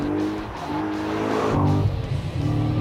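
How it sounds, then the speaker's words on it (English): A Corvette Z06 V8 engine roars steadily under load while being driven, a loud, close rumble that rises and falls with throttle, with a hint of tire noise and no talk. "you gotta love this V8 sound."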